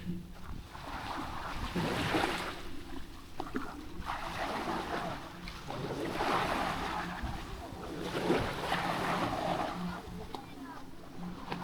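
Waves wash on a beach in Cebu, Philippines, a rolling surf that swells and recedes in broad surges, with wind buffeting the microphone and faint voices underneath.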